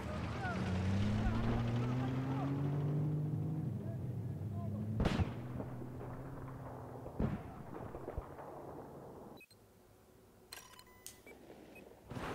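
Mobile anti-aircraft vehicle firing in Battlefield 4, a string of loud rapid booming shots over rumbling battlefield noise, with sharp blasts standing out and a quieter stretch near the end.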